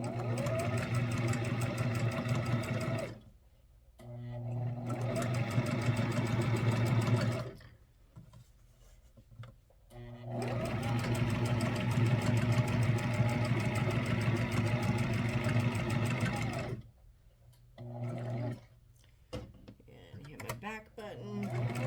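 A sewing machine stitching clothing runs in long, steady, humming bursts separated by short pauses, close and fairly loud, with brief quieter gaps between runs.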